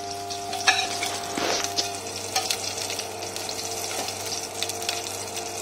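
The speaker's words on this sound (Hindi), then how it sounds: "तो हमने अपना यूटेंसिल गर्म कर लिया है और उसमें मैं डाल रहा हूँ घी" Ghee going into a hot cooking pan for a paneer dish, with a steady sizzle, a few clinks and scrapes against the metal, and a low hum beneath, close and moderately loud.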